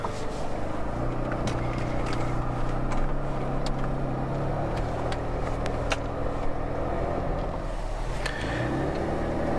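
A trusty Jeep pulls away and drives off, its engine a steady low rumble with continuous road and wind noise throughout, occasional sharp clicks and rattles over the top, no voices.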